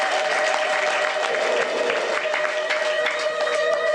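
A church congregation applauds at a service, a steady dense wash of clapping from many hands that holds loud and even throughout, with a sustained tonal hum and faint voices mixed underneath.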